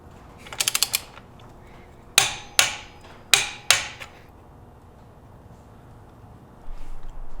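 A torque wrench tightens the rear axle pinch bolt to 18 foot-pounds: a quick burst of ratcheting clicks, followed by four sharp, separate clicks close by in a quiet room.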